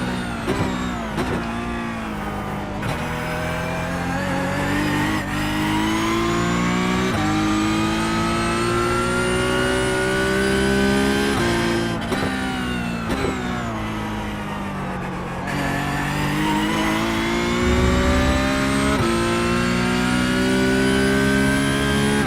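A Porsche Cup race car at Sebring in the iRacing sim, its engine revving hard and loud through repeated upshifts and downshifts, pitch climbing and dropping as the car brakes and accelerates around the circuit.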